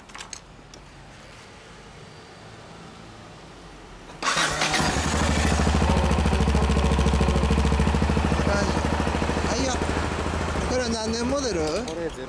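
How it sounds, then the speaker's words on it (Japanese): A 2008 Yamaha XT660Z Ténéré single-cylinder motorcycle starts after a few quiet seconds and settles into a loud, close, steady idle with a throbbing low pulse, with a few blips near the end and people talking. "エンジン音聞かせてもらえるかな？"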